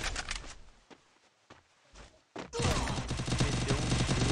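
Several sharp gunshots in a 2v2 shooter match crack at irregular intervals, then a dense burst of rapid gunfire fills the second half, loud and close.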